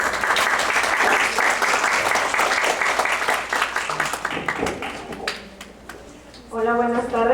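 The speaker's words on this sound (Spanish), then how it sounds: "Muchas gracias, un fuerte aplauso." Audience applause at a talk rings out for several seconds, then fades as clapping thins out; a voice begins speaking toward the end.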